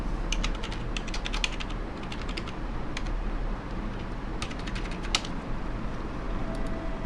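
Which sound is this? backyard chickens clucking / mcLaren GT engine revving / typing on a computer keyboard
typing on a computer keyboard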